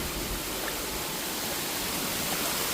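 Water pours down from overhead at a water park play area, a dense, steady, close rushing hiss that fills the whole moment without letup.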